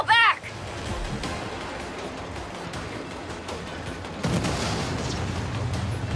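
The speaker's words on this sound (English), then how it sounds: "I'm seeing explosions all over." Explosions in the Saints Row video game, a sustained rumbling roar with scattered blasts and a louder burst near the end, under game dialogue and ambient noise.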